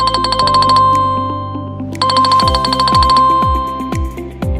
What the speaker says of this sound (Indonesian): pada user admin akan muncul notifikasi yang ditandai dengan bunyi berikut